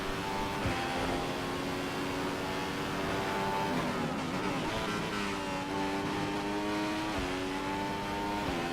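F1 car engine in F1 2015 at the Bahrain Grand Prix, a steady high-pitched whine that climbs and drops sharply at each gear change, repeated shifts over several seconds, loud and continuous with no talk.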